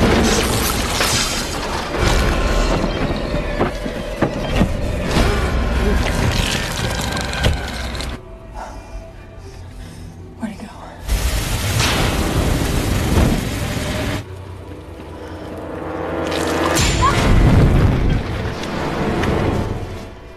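A fire and explosion tear through the back warehouse of a supermarket in a film scene, with dense, loud rumbling blasts and crashing debris that drop away briefly twice before surging back.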